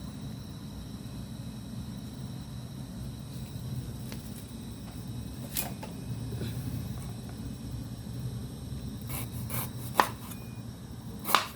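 Knife chopping ingredients for a Thai herbal white fish curry, with a few sharp, scattered cuts at moderate distance over steady low kitchen background noise.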